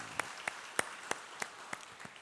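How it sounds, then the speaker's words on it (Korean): Clapping at a Korean church service, heard as about eight distinct, evenly spaced claps in a slow rhythm, fairly faint over a quiet room. "따뜻한 격려의 박수를 한번 보내주시면 좋겠습니다."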